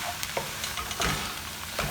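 Ground cumin, coriander and chili powder toasting in a hot pan for saag paneer, a steady low sizzle with a few scrapes and stirring taps close by.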